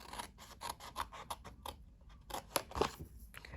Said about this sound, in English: you are going to cut from the bottom up to the first score line.